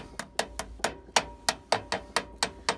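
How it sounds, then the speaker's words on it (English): A large-faced ball peen hammer gently taps a transmission filter seal into place, with about eleven evenly spaced, sharp metallic taps in a steady rhythm, close and fairly loud with nothing else heard. "you just tap it up in there very gently."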